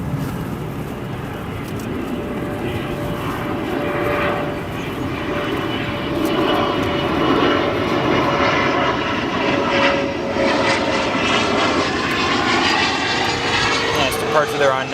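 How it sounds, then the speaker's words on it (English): A Boeing 777 departs runway 9 Center at O'Hare bound for San Francisco, its jet engines a steady, broad roar that holds and swells slightly across the stretch, with someone talking over it. "another domestic 777 departure on 9 Center"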